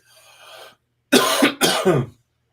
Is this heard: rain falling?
no